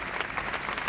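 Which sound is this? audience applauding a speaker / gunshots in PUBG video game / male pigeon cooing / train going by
audience applauding a speaker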